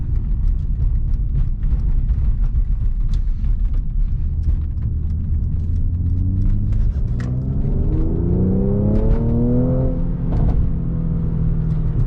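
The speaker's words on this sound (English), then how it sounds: "you probably heard a little bit of backfire coming from the tailpipe" A 2016 Mercedes-Benz C450 AMG V6 in Sport Plus mode rumbles steadily from inside the cabin, then its engine note rises in a smooth accelerating sweep, with faint scattered pops from the tailpipe; no talking.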